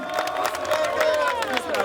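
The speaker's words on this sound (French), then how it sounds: "Ça applaudit." A crowd at a political support meeting claps and cheers in a steady, continuous wash with no clear break, fairly loud and close.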